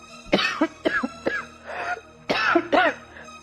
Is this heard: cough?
yes